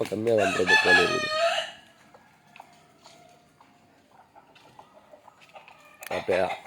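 A native rooster crows loudly and close at the start, then hens cluck softly in the background before another crow bursts in at the end, beside a village coop being opened in the morning.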